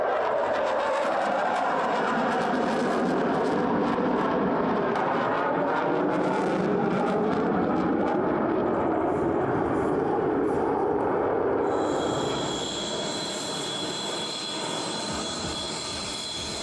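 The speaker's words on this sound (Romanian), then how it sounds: "Avionul de vânătoare Eurofighter Typhoon, pilotat de germani, a impresionat miile de spectatori veniți să privească show-ul aviatic de pe aeroportul Băneasa" A Eurofighter Typhoon fighter jet flown by a German pilot at an air show at Băneasa airport roars past loud and continuous, then recedes into a thinner whine over the last few seconds.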